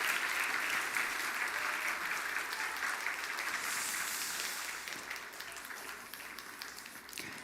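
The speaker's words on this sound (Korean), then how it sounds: "들어갈 때도 박수 한번 쳐주시면 참 좋죠?" A church congregation at a Sunday service scholarship ceremony applauds, a full, sustained round of clapping in a large room that gradually softens toward the end.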